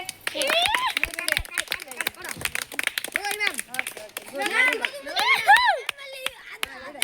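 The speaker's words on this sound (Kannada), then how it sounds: "ಅವರಿಗೆಲ್ಲ ಬಿಗ್ ಚಪ್ಪಾಳೆ ಹಾಕಿ." Winners of traditional games at a summer language camp receive applause: scattered hand claps mixed with excited children's voices and shouts, close and lively throughout.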